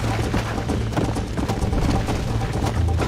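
A horse gallops in the video game Red Dead Redemption, a rapid, steady drumming of hooves heard close and continuous over background game ambience.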